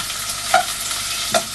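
Onions frying in a pan for a curry, with a soft continuous sizzle broken by two distinct scraping stirs.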